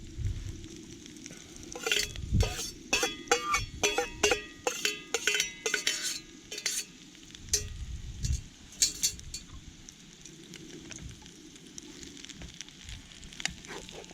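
Corned beef fries on a homemade trangia stove outdoors in the Brecon Beacons, with a steady sizzle under repeated sharp metallic scrapes and clinks of stirring against the pan, which slow and fade toward the end.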